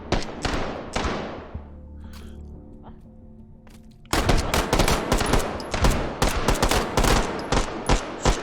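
An MK23 pistol fires in a VR shooting game, with a couple of loud, close cracks at the start, a brief lull, then a dense run of rapid, sharp reports that continues to the end.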